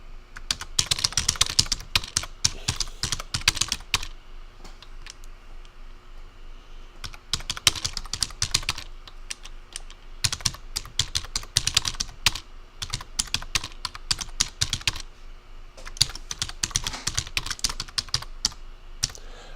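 Bursts of fast typing on a computer keyboard, crisp close key clatter in several runs separated by short quiet pauses, with no voices.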